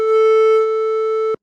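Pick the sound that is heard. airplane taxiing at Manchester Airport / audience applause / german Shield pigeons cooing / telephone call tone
telephone call tone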